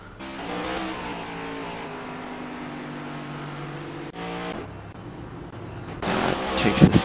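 Stock cars race at Iowa Speedway in iRacing as a NASCAR Cup car spins out. Engines drone and shift pitch, then tires squeal loudly near the end over the continuing roar.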